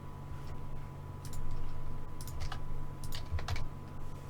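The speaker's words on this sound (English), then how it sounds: "I'm going to type it on stream." Typing on a computer keyboard in a quiet room, with scattered bursts of close, light key clicks over a steady low hum.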